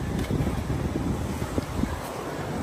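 Strong wind gusts across a Sydney seashore, buffeting the microphone with a steady, close, rumbling roar and no voices.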